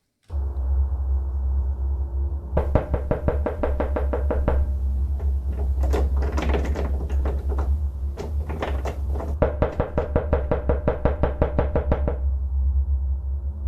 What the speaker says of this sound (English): The sounds of someone or something knocking on Nat's front door can be heard